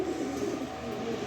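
A khaki male pigeon coos close by in a low, continuous, throaty murmur that holds steady through the moment.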